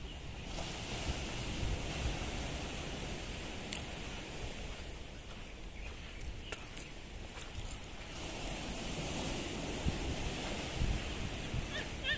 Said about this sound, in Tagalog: I'll just go and get the waves. Because the sound of the waves is nice.